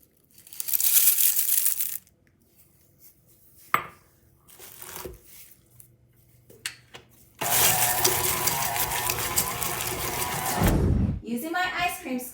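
Raisin Bran cereal poured into a bowl of cookie dough makes a loud dry rattling crunch and crinkle in two bursts, the longer one near the end, with quieter handling between them.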